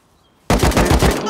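A loud, close burst of rapid automatic gunfire erupts after a brief quiet moment in the survival video game Rust, with shots hammering in a fast, steady rhythm.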